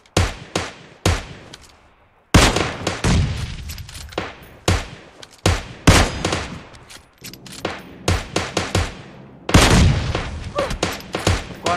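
Rapid bursts of gunfire from PUBG Mobile in a solo-versus-squad match: sharp, loud shots in clustered volleys and single cracks, with brief gaps between exchanges.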